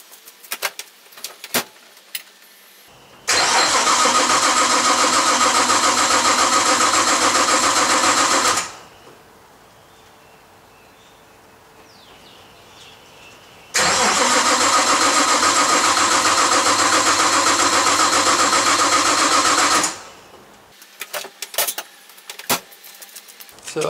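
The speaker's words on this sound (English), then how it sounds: "I'll just show you that there's no way this thing's gonna cold start." A car engine cranking in two long bursts of steady whirring starter noise, each about five seconds, separated by a quiet pause, failing to catch on a cold start, with small clicks and rustles before and after.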